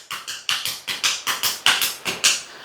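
Hands tap steadily on a leg as a remedy for leg pain, swelling and varicose veins: about a dozen evenly spaced slaps, close and fairly loud, in a brisk, regular rhythm.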